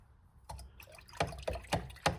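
Runny acrylic paint thinned with water splattering onto a surface in several sharp, wet spatters spaced about a quarter second apart, close and fairly loud, with no talking.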